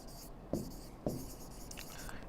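Chalk or marker taps and scratches on a board during a chemistry lecture, two sharp knocks followed by short scrapes, close by under a teacher's steady talk.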